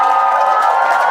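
A theater audience cheers loudly for the Greaseballs team at an improv comedy match, a dense roar of shouts and whoops up close.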